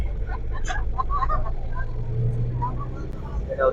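Steady low engine rumble from road vehicles travelling together on a trip toward a hilltop temple, with a faint horn-like tone and people chatting over the motor noise throughout.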